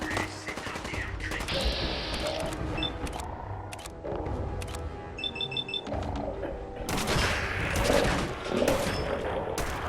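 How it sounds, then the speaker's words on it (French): A legendary enemy fires miniguns in the video game Fallout 4, sustained rapid gunfire in bursts mixed with other game effects and a few high electronic beeps, fairly loud and continuous. "elle a une sulfateuse dans les deux pattes"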